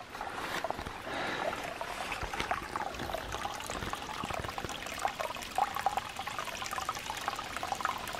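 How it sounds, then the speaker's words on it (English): Spring water runs and trickles outdoors in a continuous, fairly quiet splashing wash with small irregular bursts throughout, with no talking. "You can probably hear the spring water now running."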